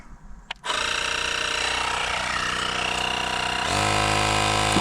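A portable air compressor runs steadily, pumping a tire on a 1989 Chevy Suburban up to 25 pounds in a backyard; a click starts a loud continuous mechanical drone that rises slightly in pitch near the end.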